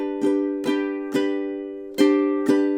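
Plucked ukulele tuned with a high G, strummed chords on the opening measure of a song, five bright strums each ringing out and decaying, played alone with no voices.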